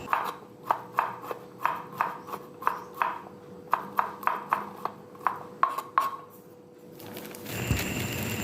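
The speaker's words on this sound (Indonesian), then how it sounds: "Langkah pertama aku potong kecil-kecil dulu tempenya ya," A knife cuts tempeh into small pieces on a cutting board. Evenly spaced, crisp knocks sound up close, each with a faint ringing edge, about two per second for several seconds, then stop as other kitchen handling begins.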